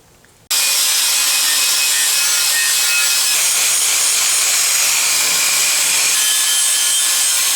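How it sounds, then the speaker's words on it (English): Wire brush scrubbing a metal roto cone part from a Reeves Drive on a Yates American J180 machine, a loud, steady, continuous scratchy rasp that starts abruptly and runs without pause, no voices. "I think I'll just go with the wire brush and call it good."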